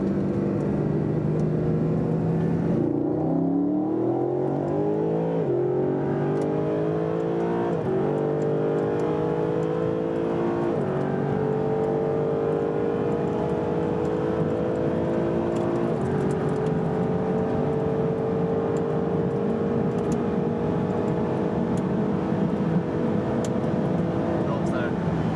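Race cars pull away hard from the last cone. A loud, close engine roar climbs in pitch through several gear changes, then settles into a sustained high drone, with voices talking over the engine noise.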